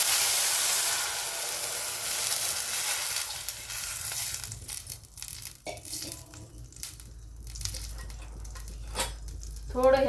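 Cumin seeds sizzle and crackle in hot oil, loud at first, then fading into scattered pops and light clatter from the pan.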